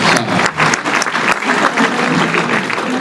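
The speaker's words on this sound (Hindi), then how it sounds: "मैं चाहूंगा एक बार पूरा सदन इनके सम्मान में ताली बजाए" Loud, close applause fills a hall at a Republic Day evening poetry gathering (kavi sammelan) as the audience claps to honour guests, with a brisk, uneven rhythm lasting the full three seconds.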